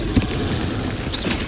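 A Confringo fire spell explodes in the Hogwarts Legacy video game, a single dull boom early on over a dense, continuous layer of game noise and ambience.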